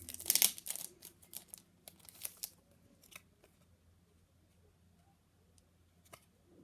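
Football sticker cards are torn and pulled apart by hand in a quiet room: a burst of sharp ripping and crinkling near the start, then a few smaller tearing and paper-handling sounds that fade into near silence.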